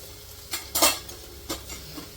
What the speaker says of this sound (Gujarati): બધું વસ્તુ જો મિક્સ કરી લે હમ તો એક બે મિનિટ આને પણ મસાલામાં થોડું સોટે કરી લેશું